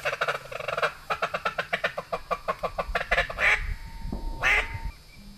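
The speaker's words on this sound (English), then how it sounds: "Them two mallards right there on the right." Mallard ducks on swamp water give a loud run of about fifteen rapid rhythmic quacks close by, followed by a couple of drawn-out calls, with no talk.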